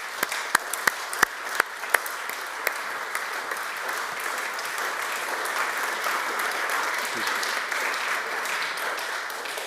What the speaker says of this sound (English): Could we offer him, please, a round of applause?